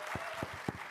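A panel audience applauds as a steady wash of clapping under a few low, muffled thumps, all at a moderate level.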